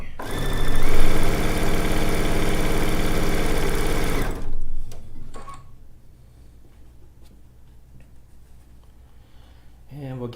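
Sewing machine piecing diamond patches for a zig zag quilt, running loud and steady for about four seconds with a fast mechanical whir, then stopping abruptly, leaving faint room noise and quiet handling sounds.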